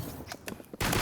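Gunfire in the Roblox Rivals video game: a few spaced sharp shots followed by a loud, dense burst of rapid fire at the end.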